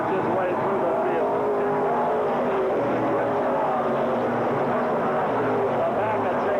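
WISSOTA race cars circle North Central Speedway, a continuous dense roar of several engines filling the track while a commentator talks over it throughout.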